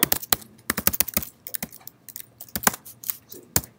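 Someone typing code on a computer keyboard, crisp close key clicks in irregular bursts with short pauses between, alone in a quiet room.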